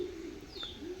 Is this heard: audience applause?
no